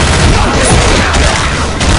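Loud, dense bursts of gunfire and booming shots in Left 4 Dead 2, continuous and close with no pause across the clip.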